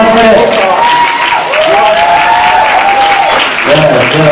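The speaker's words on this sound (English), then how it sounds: "Clap it up" Loud audience clapping and applause at a church gospel music performance, a continuous roar of claps with voices and cheering woven through and a sung or called-out voice rising over it.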